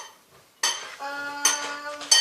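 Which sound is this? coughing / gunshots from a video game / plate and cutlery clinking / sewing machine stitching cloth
plate and cutlery clinking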